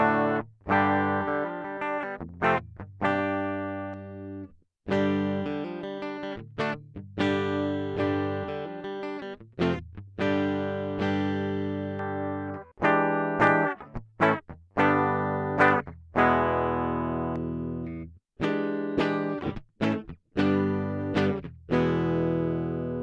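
Gibson Les Paul Studio electric guitar played clean through a direct input, with chords and single notes ringing out in phrases broken by short pauses, up close and alone.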